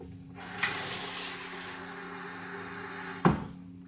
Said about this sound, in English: And then top it off with a little bit of water.